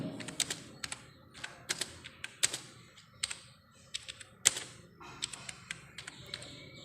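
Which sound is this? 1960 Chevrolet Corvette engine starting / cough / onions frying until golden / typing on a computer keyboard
typing on a computer keyboard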